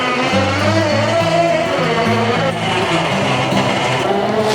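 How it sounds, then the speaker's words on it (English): An ATV winch wired to a van battery pulling steadily on an abandoned AMC Eagle, a loud close whine with a rising and falling pitch and a grinding motor drone. "That's a good sound. The more whine, the better. It's an ATV winch"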